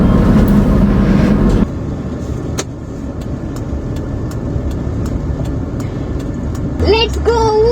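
A car engine runs steadily just after being started, a broad low rumble that holds through the clip, with voices talking briefly at the start and again near the end.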